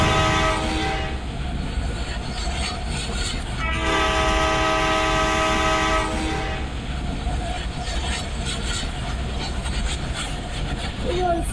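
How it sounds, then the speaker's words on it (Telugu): A passenger train rumbles steadily on its rails with continuous wheel noise and clatter, heard from on board, and a long loud horn blast sounds midway. "మేము ట్రైన్ ఎక్కుతున్నాం."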